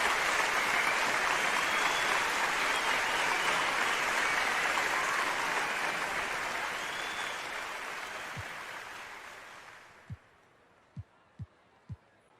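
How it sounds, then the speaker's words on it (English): Video game crowd applause from an NBA 2K MyCareer retirement ceremony, a loud steady clapping and cheering wash that fades out over several seconds, followed by a few sharp isolated thumps. "Can we get a round of applause for my parents here?"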